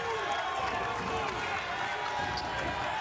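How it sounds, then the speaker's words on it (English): Basketball arena crowd at a Western Kentucky home game in the Conference USA tournament, a steady, loud wash of many voices and murmuring that carries on throughout with no break. "WKU crowd starting to make some noise."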